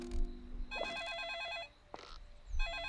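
A video game telephone rings in two electronic trilling bursts, a long one followed by a short one that starts again near the end, with a low thud between them.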